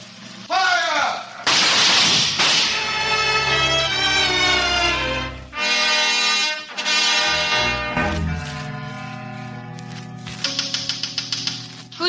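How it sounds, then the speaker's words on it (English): A firing squad volley in a 1950 radio drama sound effect: loud shouted commands dominate, then a quick burst of rattling gunshots comes near the end. "Firing squad! Ready! Aim!"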